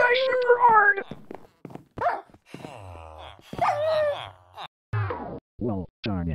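Video game dogs bark and yip in short bursts throughout, mixed with synthesized character voices talking over them in a survival series.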